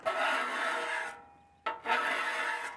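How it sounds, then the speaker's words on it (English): A scraper dragged across the rusty top of a Camp Chef griddle, loosening flaking rust and debris in long, steady rasping strokes with a brief pause and a sharp scrape before the scraping resumes, close and loud. "just gonna scrape the top and get a lot of this loose debris and rust off."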